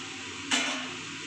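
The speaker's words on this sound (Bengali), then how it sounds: "এবার আমি পনিরগুলো দিয়ে দিচ্ছি" Paneer goes into a hot pan with curry leaves for a Bengali-style dish. A sudden loud sizzling burst rises, then settles into a steady frying hiss, close and alone.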